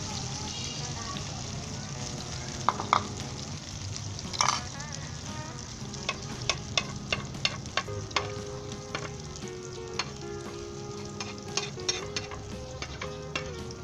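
Paneer omelette cooking in a pan on low heat, a soft steady sizzle with scattered light clicks and scrapes from a utensil, close and moderate in level with no talking.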